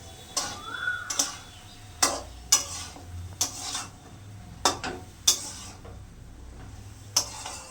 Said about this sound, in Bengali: হলুদ দিলাম, একটু কষিয়ে নেব।